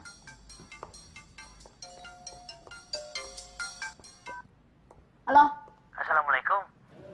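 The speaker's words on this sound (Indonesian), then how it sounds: "Telepon lagi." A mobile phone ringtone plays a bright, repeating melodic tune for several seconds to signal an incoming call, then stops as voices speak briefly afterward.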